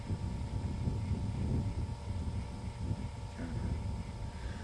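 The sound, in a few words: wind blowing while fly fishing outdoors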